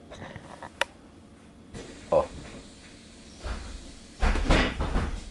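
Bus doors closing automatically, a couple of mechanical thumps and a rising rush of air and clatter toward the end against a low cabin rumble.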